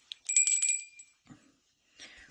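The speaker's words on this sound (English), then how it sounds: "And we'll just clear the energy on them with my bell." A small handheld bell rings out clearly a few times, its bright metallic tones lingering briefly, followed by quiet handling noises, used to clear the energy from a new card deck.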